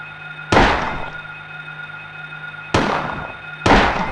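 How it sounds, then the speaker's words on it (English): Three sharp, booming gunshots in the Silent Hill video game, spaced a couple of seconds apart, each with a brief decaying echo over a quiet steady hum. "I hesitated to shoot again because I thought it might miss, and it did"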